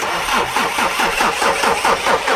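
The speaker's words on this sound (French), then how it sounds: "ça va le faire, le moteur est froid" A cold car engine cranks repeatedly with a rhythmic chugging whir, struggling to catch, close and fairly loud with no voices.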